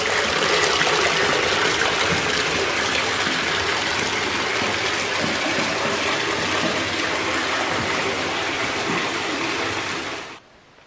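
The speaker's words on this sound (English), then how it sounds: "We already have water running." Water pours steadily into a freestanding bathtub on a travertine tile floor with a full, rushing splash that continues unbroken before cutting off abruptly at the end.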